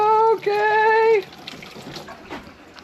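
Water rushes hard from a tap at high pressure after a new MIZUDO Gen 3 tankless water heater is installed in a tiny house. A loud sustained tone rings at first, then settles into a steady, quieter hiss of flowing water.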